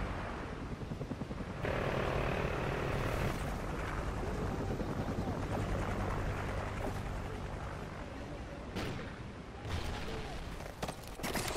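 A friendly helicopter in the video game Call of Duty Ghosts drones loudly and continuously, its rotor roar filling the scene, with scattered sharp bursts and no speech.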